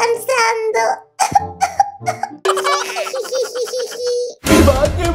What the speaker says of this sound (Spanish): ¿Has visto la tos que tienes?